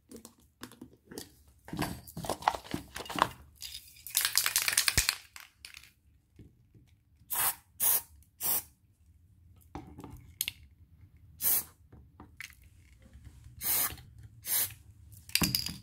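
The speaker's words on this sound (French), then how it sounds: "je vais prendre la colle en spray" Spray glue hissing from a can onto a Christmas table centerpiece with a candle holder, several short close bursts separated by pauses, mixed with some handling noise.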